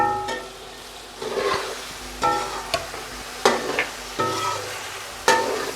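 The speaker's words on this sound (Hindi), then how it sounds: "ऐसे ऐसे हिलाते जाएंगे, साथ साथ ब्राउन करते जाएंगे" Chicken pieces browning in a hot pan for pulao, stirred in bursts of scraping strokes over a crackling sizzle, close up and with no voices.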